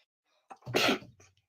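A single sharp sneeze erupts during a recorded debate discussion, loud and close, with a brief intake beforehand and a short trailing breath after.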